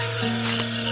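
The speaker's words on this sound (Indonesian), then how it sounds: "aya suara jangkrik, suara bangkong" Crickets chirping at night in a Sundanese village, a steady high shrill trill over a low continuous background hum.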